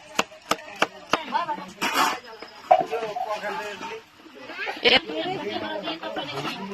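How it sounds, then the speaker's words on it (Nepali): A knife chopping an onion at home gives four or five sharp, close strikes in quick succession, followed by people chatting and laughing nearby with another knock breaking through the talk. "इस तरफ से प्याज काट रहा है।"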